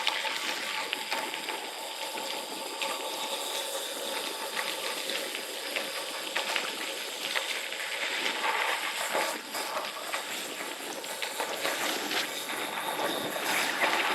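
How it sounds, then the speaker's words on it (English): A road bike rolls down a gravel descent from a hilltop toward the coast, with constant breezy wind rush buffeting the microphone and a faint crunch of tires beneath, steady and unbroken, with no voices. "A little breezy today, or this time of year especially."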